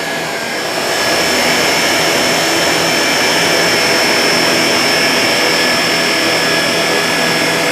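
A Shark Apex DuoClean vacuum cleaner drives its brush roll across carpet with a loud, steady motor whine and a dense whirring roar that holds unbroken after it spins up.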